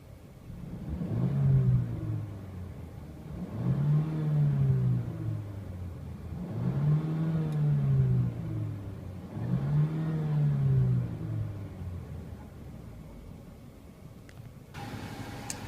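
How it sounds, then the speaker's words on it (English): A 2014 Mercedes CLA 250 engine revs four times in a row, each rise and fall a smooth mid-pitched swell heard from close by, with a steady idle rumble between the revs and no talking. "Let's go ahead and give it a little rev here."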